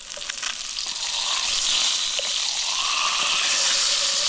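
Trout frying in a pan over a camp stove by a river, a steady close sizzle that swells after the first second and holds loud and even, with no talk over it.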